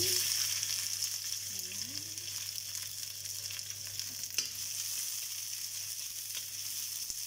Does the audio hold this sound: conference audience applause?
no